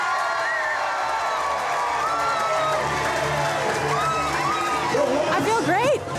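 A crowd at a corn eating contest cheers the winner with continuous loud hubbub, whoops and rising shouts that swell toward the end.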